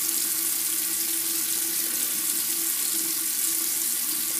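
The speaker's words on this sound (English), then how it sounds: "And then get some water, fill it up." Water runs steadily from a tap to fill a container, a loud, continuous hiss and splash that holds level from start to finish with no voices.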